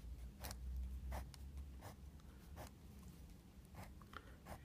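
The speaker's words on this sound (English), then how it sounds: "Pen writes, it's a medium nib." A medium-nib fountain pen with slight flex writes on paper, giving soft, quiet scratchy strokes in short bursts, close and faint with no talking.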